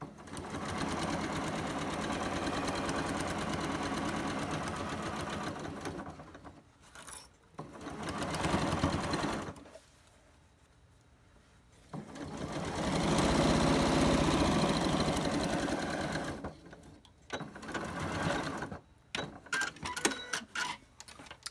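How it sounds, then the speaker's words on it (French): Sewing machine stitching a seam on a fabric mask, running forward and in reverse to backstitch, in long steady whirring bursts separated by short pauses and a few brief stops and starts, close and with no voices. "Encore une fois, je pars ma couture, donc en reculant et en avançant."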